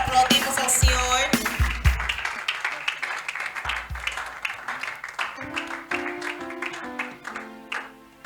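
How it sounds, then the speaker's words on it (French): A church congregation at a service with prophet Rema Jose claps and applauds as the prophet advances, the scattered hand claps running under a preacher's amplified speech and music. "Ele avança, aplaudimos ao Senhor."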